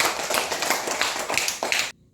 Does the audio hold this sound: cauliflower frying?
no